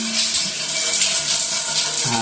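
Water runs steadily from a faucet in a newly turned-over Lancaster New City home, a close, continuous rushing hiss with no break.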